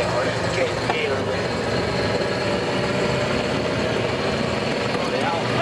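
A Land Rover engine running cold on half choke, a loud, steady, close rumbling drone that holds an even pitch and level from start to finish.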